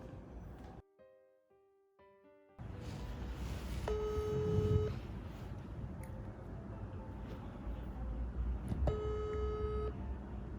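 A phone call being placed, with a series of electronic dial tones and beeps followed by repeated ringback tones over a background rumble, with no voices.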